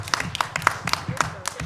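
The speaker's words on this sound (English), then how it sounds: "Round of applause." Scattered clapping from a small audience at a students-versus-faculty quiz bowl after a correct answer, several sharp hand claps in a loose, uneven burst lasting under two seconds.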